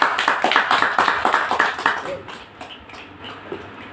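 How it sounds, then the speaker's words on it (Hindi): Indoor audience at a seminar gives rhythmic clapping to welcome a speaker, loud and steady at first with regular beats, then thinning out and fading to scattered claps. "हम गुरु जी का एक बहुत ही जोरदार और धमाकेदार तालियों के बीच वेलकम करेंगे"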